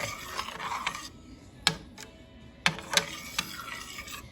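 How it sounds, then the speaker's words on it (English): A spoon scrapes and knocks against a pot of tomato sauce, giving a few sharp, close clinks and scraping strokes spaced out over a quiet background, with no talking. "Now I'm going to stir this."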